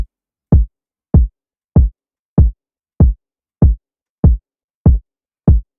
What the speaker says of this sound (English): It's a 4-step kick.